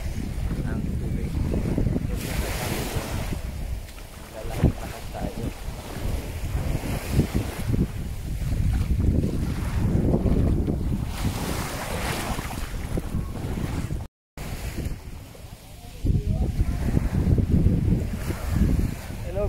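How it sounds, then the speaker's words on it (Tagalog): Surf rolling in along the longest beach of Avşa Island, with steady washing waves and heavy wind buffeting the microphone throughout, and a brief dropout near the end. "nandito tayo sa pinakamahabang beach ng Avşa"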